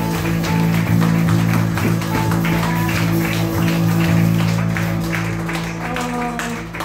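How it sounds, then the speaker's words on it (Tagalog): A church congregation applauds for the Lord during a Filipino worship service, steady sustained clapping filling the room at close range for several seconds, without speech over it. "Yan na po ba yung palakpak natin sa Panginoon?"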